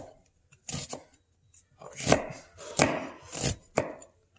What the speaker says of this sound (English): I'll be cutting horizontally down the shallot